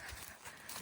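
Horse hooves clopping in a steady walking rhythm, fairly close, over a constant outdoor rustle.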